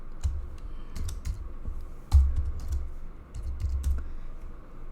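Keystrokes on a computer keyboard while entering TI-BASIC code, a steady run of close, crisp clicks with a few sharper, louder presses over low background hum.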